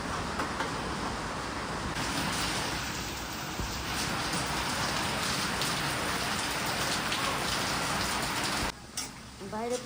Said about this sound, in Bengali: বাইরে প্রচণ্ড বৃষ্টি